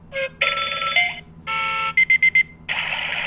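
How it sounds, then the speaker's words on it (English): Oregon Scientific talking countdown timer sounding its end-of-countdown alert, a kettle-like electronic ringing: sustained tonal bursts, then four quick evenly spaced beeps and a final longer ring, close and clear with no talking. "So that's the countdown sound it's going to make when it gets all the way down to 0."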